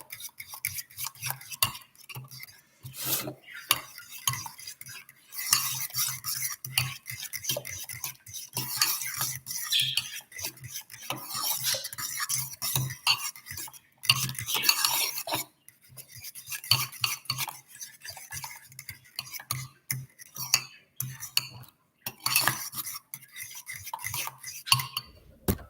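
A utensil stirs homemade garlic dipping sauce in a bowl, producing close, continuous scraping and clinking in irregular bursts with brief pauses throughout.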